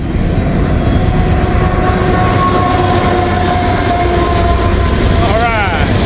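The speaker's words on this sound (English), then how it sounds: "DPU coming through." A CSX or Norfolk Southern freight train passes close by with its DPU locomotive, giving a loud continuous rumble and roar, a steady engine tone over it, and a short horn-like sweep near the end.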